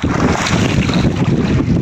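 Strong wind roars and buffets against a fishing boat at sea at night, loud and continuous, with the rush of water beneath it.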